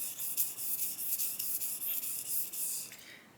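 Shapton sharpening stones being lapped flat, giving a steady gritty rasp of repeated rubbing strokes, close and fairly quiet, with no voices.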